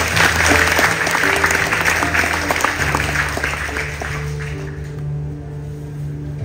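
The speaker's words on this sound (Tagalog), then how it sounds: "Sige, palakpak niyo Panginoon if you want to." Congregation clapping during a church sermon on prayer, a full round of applause over a sustained musical tone that softens toward the end.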